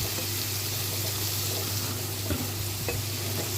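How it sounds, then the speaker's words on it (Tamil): Half a tumbler of water poured into a pan of frying brinjal, with a continuous close sizzle and bubbling, plus a couple of brief stirring clinks near the end. "அடுப்பு சிம்மில் வச்சுட்டு 1/2 டம்ளர் தண்ணி ஊற்றணும்"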